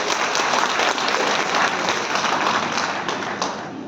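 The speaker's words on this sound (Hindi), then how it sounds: "तो एक बार जोरदार तालियों से इनका स्वागत किया जाए।" Loud, dense applause fills a hall at a ceremony honoring newly selected BPSC officers, many hands clapping in a continuous roar that stays strong throughout and eases only slightly near the end.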